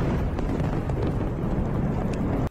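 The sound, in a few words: explosion from UR-77 Meteorit explosive-filled pipe hitting target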